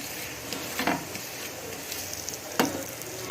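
Ragi roti frying in oil in a pan, a steady soft sizzle broken by a few sharp spatula scrapes and crackles.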